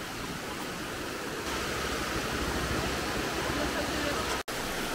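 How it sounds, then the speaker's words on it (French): A waterfall with small streams running below it on Ishigaki, Japan, gives a steady broadband rush of falling water, continuous and fairly close, with a brief cut near the end. "Et vous pouvez vous baigner en bas dans la cascade."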